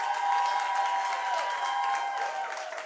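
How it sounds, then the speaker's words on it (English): A crowd at a business workshop and expo claps and cheers steadily, a dense wash of applause filling the space, fairly loud and continuous. "Can we please welcome him with a huge round of applause?"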